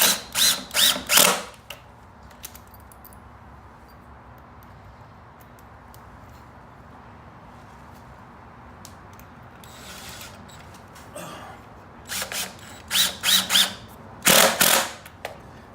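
A power drill drives screws into the sides of a wooden planter box, heard as clusters of loud, short ratcheting bursts at the start and end, with a long quiet stretch of faint shuffling between them.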